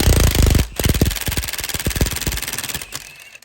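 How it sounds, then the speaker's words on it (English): An impact wrench spins an 18 mm nut off a BMW F30 strut, hammering loudly up close in a rapid rattling burst, then a short pause and a second longer burst that slows and winds down. "if you have an impact, you can straight up just do this with an impact"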